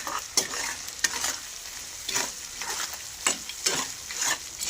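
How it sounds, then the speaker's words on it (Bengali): Turmeric and chili powder are sautéed in fish oil with a spatula scraping the pan in rhythmic strokes. Each stir brings a soft sizzle that rises and fades between strokes, near and moderately loud. "এবার আমি এগুলোকে ভালো করে কষাবো।"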